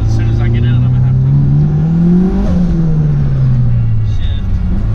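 A 2003 Mitsubishi Evo 8 with about 500 wheel horsepower accelerates hard in a very short first gear, the engine note climbing steadily then dropping at the shift, heard loud from inside the car with a voice speaking over it.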